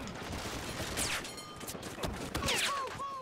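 Scattered gunfire in a Battlefield Hardline match, several sharp shots and short bursts popping at moderate loudness amid busy battlefield noise and whistling effects.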